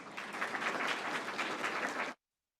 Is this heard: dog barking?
no